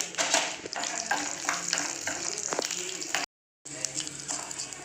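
Dried red chillies and curry leaves sizzling in hot oil as tempering for coconut chutney, a close, steady crackling fry with stirring and a brief silent gap near the end.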